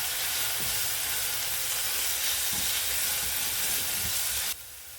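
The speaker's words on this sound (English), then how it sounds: "I'm gonna saute the onions until they become translucent." Onions frying in hot oil for a Nicaraguan black bean soup give a continuous, even sizzle up close, with a few soft stirring knocks, before the sound drops away sharply near the end.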